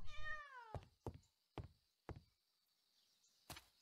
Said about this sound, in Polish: Kotek.